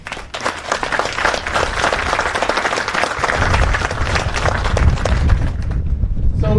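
Audience applause rings out at an Army National Guard field artillery retreat and welcome ceremony, dense clapping from a large outdoor crowd, loud and sustained before tapering at the end.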